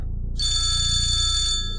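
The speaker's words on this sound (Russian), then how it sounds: "Проснулась я от телефонного звонка." A telephone bell ringing loudly and continuously, a bright steady electronic tone that starts abruptly and holds with no one speaking.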